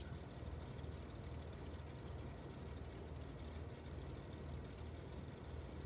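Aircraft engine starting in a flight simulator, a low steady rumbling drone held at an even, quiet level throughout.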